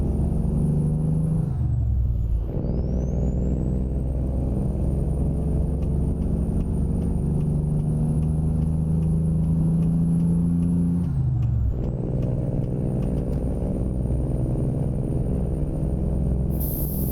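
Heavy truck engines in the American Truck Simulator video game rumble steadily for a long stretch, with a sharp air-brake hiss and a pitch drop partway through, and no voices.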